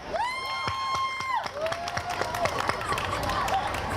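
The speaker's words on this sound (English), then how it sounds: "let us give a round of applause to Aya." A crowd at a World Refugee Day event applauds and cheers for Aya Atal, dense clapping under a bright whistled or sung tone at the start, then steady claps with scattered shouts continuing throughout.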